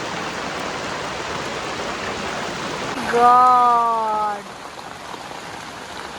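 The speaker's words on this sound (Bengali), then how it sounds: "কি বৃষ্টি পড়ছে গো" Heavy morning rain falling as a steady, dense hiss throughout, with a voice briefly speaking over it midway.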